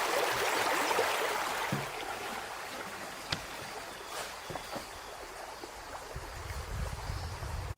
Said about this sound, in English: Water hits the dry mix.